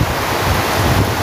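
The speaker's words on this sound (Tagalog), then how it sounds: "Yung anggi, malakas yung hangin." Strong wind drives heavy rain in a steady, roaring wash of noise, with buffeting gusts hitting the microphone and no voices.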